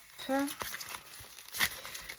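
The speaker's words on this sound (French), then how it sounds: "La petite dame me l'a mis dans un papier bulle." A parcel wrapped in bubble wrap is handled and opened, with brief crinkling and rustling bursts close by and a voice talking in between.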